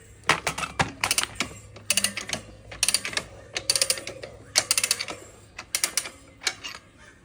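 Rapid ratcheting clicks in repeated bursts from a Rabaconda tire changer working on a motorcycle adventure tire, close and crisp, with short pauses between clusters of clacks.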